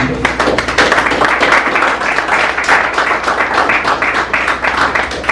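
Loud sustained applause from an audience at a law firm's summer university evening event, dense rapid clapping filling the room steadily for several seconds without pause.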